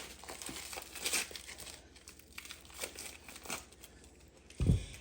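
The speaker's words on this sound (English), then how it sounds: "I'm just going to take our brie cheese and unwrap it." Brie cheese being unwrapped from its wrapper in a home kitchen, with crinkly rustling of the packaging in short bursts and a louder crackle at the end, close and fairly quiet.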